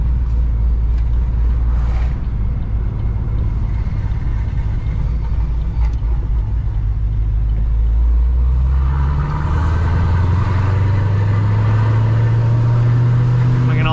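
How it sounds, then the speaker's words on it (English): A car engine idles out of gear with a choppy, lumpy rumble, loud and close, holding a steady uneven beat before the pitch rises slightly toward the end. "Out of gear, catches idle, nice and choppy."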